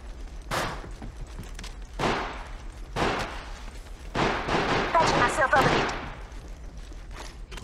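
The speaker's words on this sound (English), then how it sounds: "Listen up, I'm getting shot at." Gunfire in a battle royale video game, heard as several separate bursts of shots spaced a second or so apart, the later volleys denser and louder, with talk mixed in.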